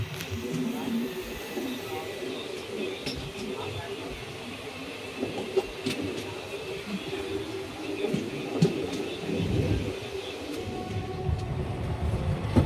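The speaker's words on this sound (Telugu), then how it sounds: "WAG-9 లోకోమోటివ్ అయితే పుల్ చేస్తుంది మన ట్రైన్ని." A Puducherry–Tirupati MEMU Express hauled by a WAG-9 electric locomotive rolls into Tirupati with a continuous low rumble and rattle, heard from on board, with faint bird calls and murmured voices.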